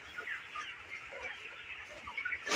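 Broiler chickens on a poultry farm cluck softly and continuously, a faint, busy chorus of overlapping calls with no talking.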